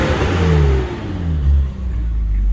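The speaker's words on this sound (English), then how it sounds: "The M20 is a bulletproof motor, and it has a really nice deep sound to it." BMW 320i Touring with an M20 inline-six engine revving close by, a deep rising and falling engine note that swells twice over a steady idle, with no voices.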